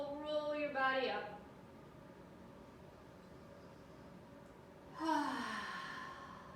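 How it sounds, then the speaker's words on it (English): During a kids' yoga session, two audible breaths are drawn in and let out, a rising inhale and a sighing exhale separated by a quiet pause, with a voice nearby. "See if you can take a couple deep breaths"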